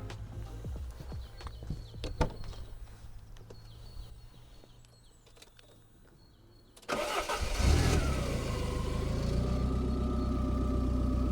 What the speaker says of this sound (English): Shall I start it up?